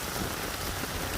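Steady monsoon rain falling in Gauchar, a dense uniform hiss of drops striking the ground and surfaces, continuous and close with no pauses.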